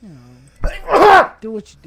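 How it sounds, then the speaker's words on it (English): A loud, forceful sneeze bursts out in the middle of casual gaming chatter, a single sharp explosive blast with people talking just before and after. "that was a power sneeze"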